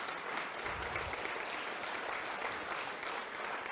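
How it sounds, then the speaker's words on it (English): A Rotary club audience in a meeting room claps in a sustained, even wash of applause, fairly faint and distant, steady throughout with no voices on top. "so we'll give them a round of applause"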